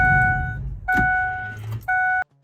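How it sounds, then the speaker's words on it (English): Someone tries to start a vehicle with a mouse-related fault, setting off repeated electronic warning chimes in two-tone beeps, with low engine-compartment noise and a click underneath, close and fairly loud before cutting out. "I went to start the vehicle"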